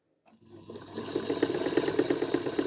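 A vintage 1950s Pinnock sewing machine starts from silence and runs steadily, its motor whirring with a fast, even stitching rhythm that grows louder and holds close by.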